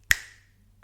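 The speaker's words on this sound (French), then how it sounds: "quand je vais claquer les doigts" A single crisp finger snap rings out close and clear, with a short bright decay trailing into near silence.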